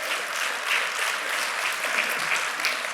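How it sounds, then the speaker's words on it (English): A medical conference audience at a myeloma clinical trials talk breaks into steady, even applause, a brief three-second burst of many hands clapping together. "you can clap for that."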